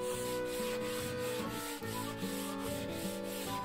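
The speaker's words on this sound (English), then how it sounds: "first I took a second to sand the cork roadbed, paying special attention to the joints" Hand sanding of cork roadbed on a model railroad layout, with a continuous soft scratchy rubbing at close range and a brief pause midway, heard alone under faint background music.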